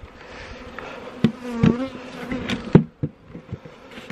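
Bees buzz close by in a low drone inside a closed, covered hive during queen rearing, with a few sharp knocks and thumps breaking through now and then.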